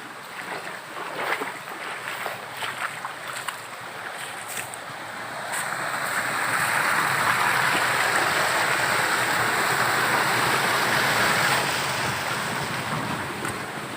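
Creek water flowing through a Y-shaped stream junction in the woods, a steady broadband rush that swells louder midway and holds, with wind-like hiss over it.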